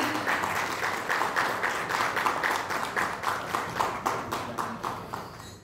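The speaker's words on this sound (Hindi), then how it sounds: "बस जोरदार ताली होनी चाहिए" An audience at a press conference for a Bhojpuri film celebrity cricket league applauds steadily to welcome actor Ravi Kishan, the dense clapping holding loud and even throughout with a slightly rhythmic pulse.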